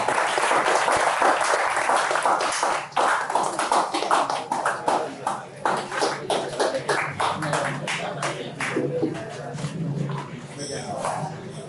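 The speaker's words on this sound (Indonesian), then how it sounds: "Tepuk tangan buat dua pemateri" Audience clapping for two presenters at an Indonesian discussion event on Prince Trunojoyo, a steady crowd applause that thins out over time, with voices talking throughout.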